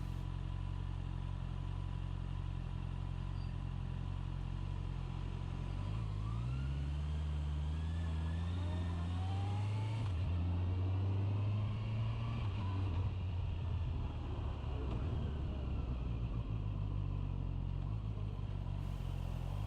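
A Honda CB650R with e-clutch rides through traffic, its engine note rising and falling with gear changes as it weaves along, surrounded by constant road and wind noise.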